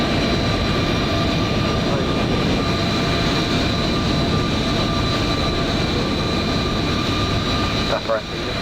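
A British Airways Airbus A320 roars past in Microsoft Flight Simulator 2020 near Edinburgh, a loud, steady jet engine drone holding throughout, with a voice speaking over it.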